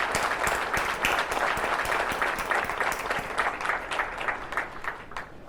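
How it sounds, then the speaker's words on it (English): An audience at an art-school event, the Sandberg Institute, breaks into dense, sustained applause, many hands clapping at once in an even roar that fades slightly at the end, with no voices above it. "another round of applause"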